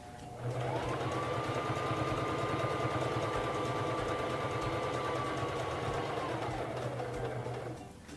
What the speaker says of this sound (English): turn it so that it is on step 3 of the buttonhole. And begin sewing.